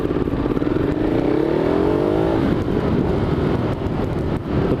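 A Ducati Hyperstrada motorcycle engine drones steadily while riding in San Francisco, a loud continuous rumble with a rising then settling pitch as it revs, close to the rider with wind noise.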